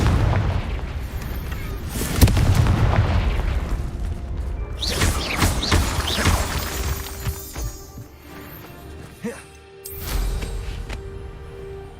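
Confringo spell blast in Hogwarts Legacy, a sharp booming explosion followed by crackling bursts and debris, loud and near, with further impacts and bursts afterward.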